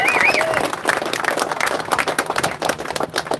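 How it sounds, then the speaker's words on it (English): Outdoor crowd at a protest in Broadstairs breaks into applause for a speaker, dense clapping that thins out over a few seconds, with some voices and a whistle mixed in. "a round of applause for Dan"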